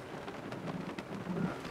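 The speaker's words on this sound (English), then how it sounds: "it's raining as hell outside." Heavy rain pours steadily outside a window, a dense hiss with scattered sharper drops and a low rumble of thunder building toward the end, moderately loud and continuous with nobody speaking.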